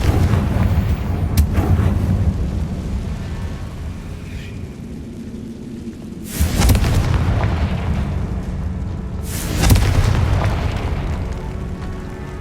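Fiery Confringo spell blasts from the Hogwarts Legacy video game: two heavy, booming explosions a few seconds apart, each a sharp burst that rolls off into a rumbling tail over a steady low game ambience.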